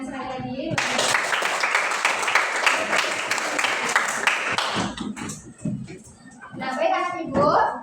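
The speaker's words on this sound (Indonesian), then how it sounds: "kita beri tepuk tangan sekali lagi." A classroom of students gives a group a round of applause, a loud, dense burst of clapping lasting about four seconds before it breaks off and a teacher starts speaking.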